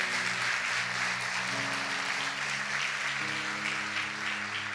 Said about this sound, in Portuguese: Aplauda o Senhor por esse casal.